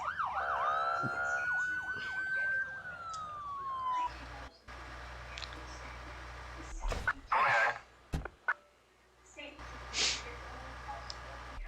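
A wailing emergency siren from fire trucks in the video game 911: First Responders rises and falls for the first few seconds, followed by engine rumble and scattered clunks and bangs.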